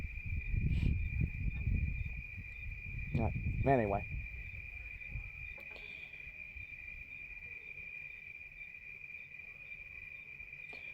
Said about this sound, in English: I have them crickets right there